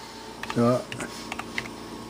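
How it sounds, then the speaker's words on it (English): Several quick taps on a computer keyboard, spaced irregularly, with a brief voice sound near the start. "just type in YouTube or something"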